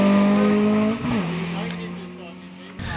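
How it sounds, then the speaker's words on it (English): An early-1960s Lotus 22 historic race car, originally built for hill climbs, runs at a British speed hillclimb. The engine is loud and close, with a steady high note that dips at a gear change, under a commentator's voice. "the immaculate Lotus 22 of historic class winner Jeff Hunt, originally built as a hill climb"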